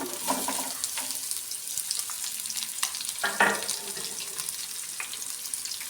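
Sliced onions and green chillies fry lightly in hot oil for curd pakodi, a steady close sizzle with occasional stirring scrapes and clinks of a spoon against the pan.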